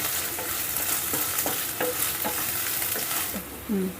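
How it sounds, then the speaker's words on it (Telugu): Green chilies and chopped onions fry in a pan, giving a steady close sizzle broken by a series of scraping stirring strokes with a spoon. "ఇప్పుడు మనం వేసిన పచ్చిమిర్చి ఉల్లిపాయ ముక్కలు అన్నీ చక్కగా వేగేయండి"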